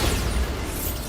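Bombarda blasting spell going off in a video game, a dense, sustained rumbling burst of explosive noise that fills the short moment loudly, with no speech over it.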